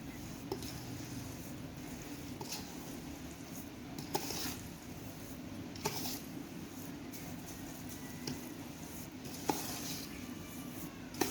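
Ingredients for a traditional village-style pickle fry in hot oil, giving a steady, soft sizzle with occasional faint clinks and scrapes of stirring throughout.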